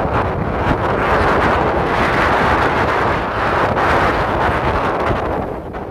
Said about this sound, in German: Es weht eine richtig steife Brise. Und ordentliche Wellen schlagen gegen die Mole.